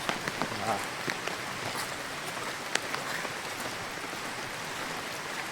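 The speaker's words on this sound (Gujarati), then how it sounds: "વરસાદ છે પણ" Rain falls steadily in a lush green forest, making a dense, even hiss with scattered sharper drips throughout.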